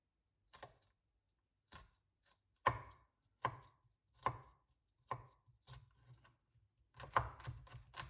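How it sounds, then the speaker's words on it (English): A knife chops garlic finely on a cutting board, about a dozen sharp, close knocks in uneven bursts with brief pauses between, otherwise quiet. "Chop this up finely."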